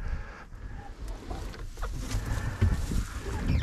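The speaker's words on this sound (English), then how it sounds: "Yeah, the Australorps are huge. They're the biggest chickens I have." Large, skittish Australorp chickens clucking in a farm coop, a few soft scattered clucks and shuffling close by with no talk.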